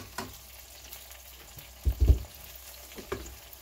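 Chopped tomatoes and spices fry in oil for masala-stuffed kofte, a soft low sizzle with a few stirring scrapes and thumps, close and quiet.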